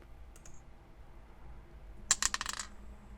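A single faint tick comes first, then a short, sharp rattle of dice tumbling across a hard surface, a brief cluster of clicks against a quiet background hum.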